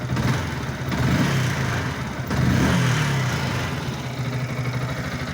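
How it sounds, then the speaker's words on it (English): A Yamaha RD350 YPVS two-stroke motorcycle engine idles steadily nearby, a low throbbing rumble with a couple of small surges in revs. "we actually do have power, and we have a running motorcycle."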